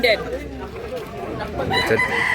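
A young rooster, a year-old stag, crows once nearby in a Cebu yard, with a rising then sustained call over outdoor background and some faint voices.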